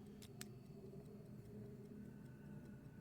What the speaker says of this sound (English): It keeps ticking.